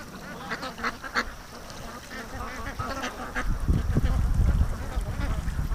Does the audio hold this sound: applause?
no